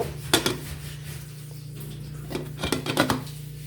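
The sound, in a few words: cooking pots taken off the stove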